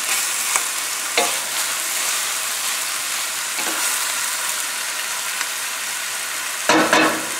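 A utensil knocks and bangs against a cooking pot of pork shoulder cubes with cabbage and potatoes, a few sharp metallic raps spaced apart over a steady sizzling frying background, with no talking.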